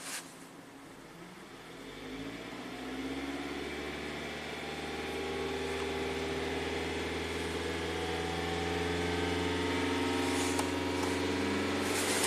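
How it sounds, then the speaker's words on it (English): A Hyundai car engine, being checked for a slow oxygen sensor fault, is revved from idle to a higher steady speed, a low humming drone rising gradually and holding, heard close in a quiet workshop. "Now let's raise the RPMs up."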